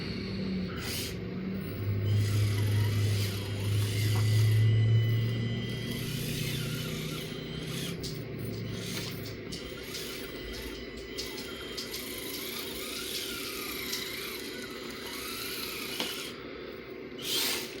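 A small SCX30 C10 RC crawler with aluminum shocks drives across a ramp, its motor giving a faint, steady electric whir with brief louder surges early on, heard close and alone.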